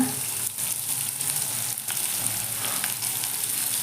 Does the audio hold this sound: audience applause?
no